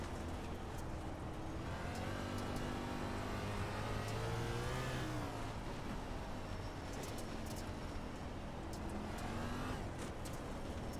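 A stock race car roars past on an oval track at Bristol, engine note rising and falling as it sweeps by, loud and continuous over steady engine drone from the field, with other cars whirring in the background.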